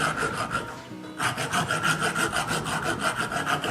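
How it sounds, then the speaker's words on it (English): A thread repair file rasps back and forth over the threads of a 5/8-inch, 11 threads-per-inch bolt, a close, steady rhythmic scraping with a brief pause near the start, no voices. "fix up any bad sections, or even just clean the threads out thoroughly"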